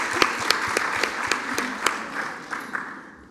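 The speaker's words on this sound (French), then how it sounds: "Un bon applaudissement pour Laurie." An audience claps after a talk on returning to work or staying home with a baby, a steady scattered patter of hands that fades out over about three seconds.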